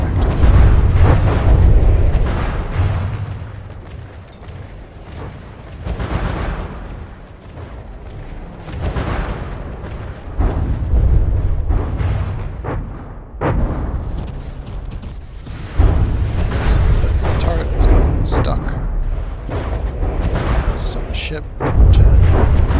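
Missiles and shells striking targets in the vehicle-combat game From the Depths, a dense run of deep, rumbling booms and blasts rolling almost continuously, loud and heavy, with brief lulls between volleys.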